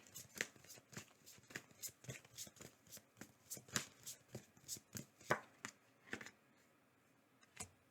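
Tarot cards being pulled and shuffled in a pick-a-card reading, a steady run of crisp riffling snaps and soft slaps repeating about twice a second, close and fairly quiet, with no voice.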